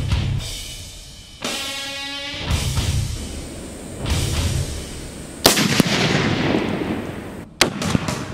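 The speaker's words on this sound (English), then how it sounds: "We're shooting the Serbu Firearms BFG 50A semi-automatic sniper rifle." A Serbu BFG-50A .50 BMG semi-automatic rifle fires armor-piercing incendiary rounds at an engine: several very loud, booming shots spaced a couple of seconds apart, each followed by a long rolling echo.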